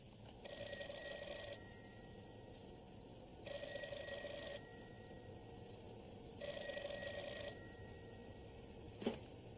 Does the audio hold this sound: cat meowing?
no